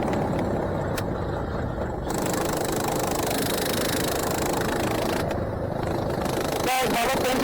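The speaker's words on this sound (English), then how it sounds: "Guys, my left engine broke." A go-kart with a broken left engine and its exhaust off runs during a 24-hour kart race at Teesside Karting, giving a loud, rough, continuous mechanical drone that rattles and surges and then sputters near the end.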